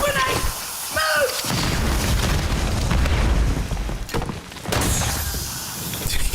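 Grenade explosion in Call of Duty Warzone, a loud booming blast that fills the mix and rumbles on for several seconds, with a second burst near the end and gameplay sounds around it.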